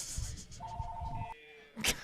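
A house telephone rings in short electronic trills partway through, fairly faint beneath room noise and chatter.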